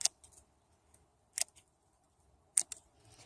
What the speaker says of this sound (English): I can just quickly cut over the tops here, no problems